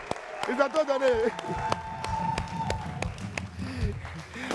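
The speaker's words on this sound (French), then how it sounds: "Applaudissons encore pour Etimo, il s'est trop donné" Audience clapping and cheering for Etimo on a broadcast show, scattered irregular claps and crowd noise mixed with voices talking and calling out throughout.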